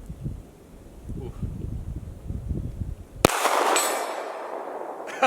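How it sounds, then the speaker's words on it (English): Pistol shot at an outdoor range striking a steel target plate, one sharp loud crack with a ringing metallic tail, after rustling and faint voices. "Try to hit these last 2 bullets."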